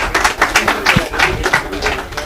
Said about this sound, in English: round of applause for group 2